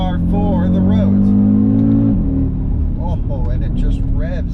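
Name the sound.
Audi RS Q3 engine revving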